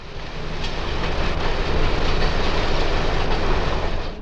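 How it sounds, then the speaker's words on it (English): A 1926 heavyweight electric multiple-unit train on the IC electric line rolls past, loud and near, in a continuous rumble with faint wheel clatter. "A train of the old 1926 multiple-unit heavyweight electric cars on the IC electric line overtakes the city."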